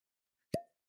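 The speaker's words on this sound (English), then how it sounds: "Let's get a cork pop." A cork pops sharply from a whiskey bottle, a single crisp near plop in an otherwise quiet moment.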